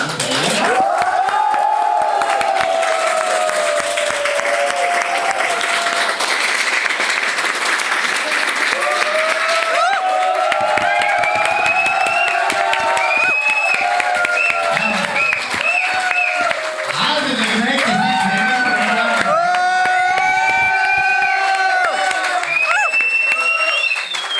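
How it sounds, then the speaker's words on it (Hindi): An audience at a live seminar claps and cheers loudly and continuously, with whoops and shouts rising over sustained applause throughout. "तालियां ऐसी नहीं बजी"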